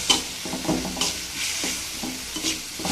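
Red amaranth leaves frying and being stirred in a pan, with a soft continuous sizzle under repeated scraping stir strokes at close range, no voices.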